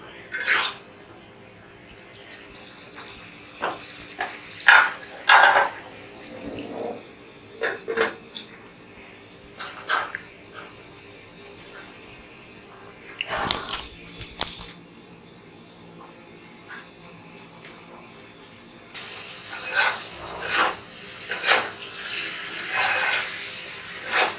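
Beef being stir-fried in a pot for kala bhuna, with intermittent metallic scrapes and clanks of a spoon and lid against the pot, scattered irregular bursts, close and moderately loud, separated by quiet sizzling gaps.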